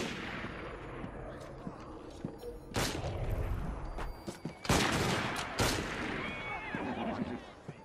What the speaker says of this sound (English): Yo, who's shooting, man?